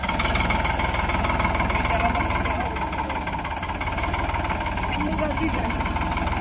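Tractor engine idling on a farm field during mustard sowing, a steady, loud diesel rumble that runs throughout, with voices talking over it.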